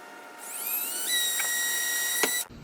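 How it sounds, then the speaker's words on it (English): A power drill pre-drilling wood whines up to a steady high pitch, bites briefly with a couple of catches, then cuts off sharply. "I'm gonna pre-drill."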